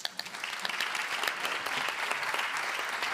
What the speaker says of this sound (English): a round of applause for our panellists